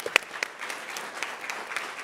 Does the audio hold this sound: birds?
no